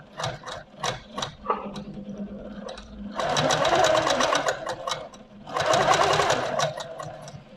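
An Amara ST sewing machine set in a stationary table stitches in two sustained runs of fast, steady needle chatter, preceded by a few short starts and taps, close and fairly loud with no talk.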